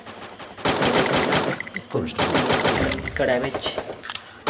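AUG assault rifle fire in a Free Fire Clash Squad match comes in rapid automatic bursts, loud and close, mixed with game effects as someone talks excitedly in Hindi over it.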